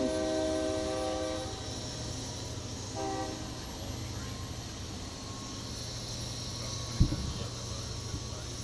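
A passing train sounds its horn in a long, loud blast that fades out around the two-second mark, followed by a steady rolling rumble, a brief second horn note and a sharp clank near the end.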